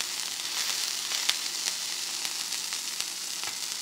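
Steady sizzle of a burger patty frying flat in a pan on a stovetop, a constant bright hiss with small pops and crackles, heard alone without speech.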